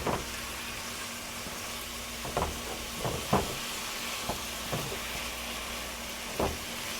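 Ground taco meat with taco seasoning sizzles quietly in a pan, with a soft continuous hiss broken by several short scraping stirs of a utensil spaced through the clip.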